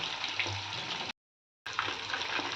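Chicken legs fry in oil with a close, bubbling hiss that breaks off into a short silence, then resumes just as steadily.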